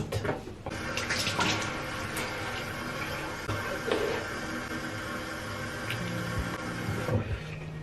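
A bathroom tap runs steadily during tooth brushing, a continuous close hiss of water with small clinks and splashes, no talking.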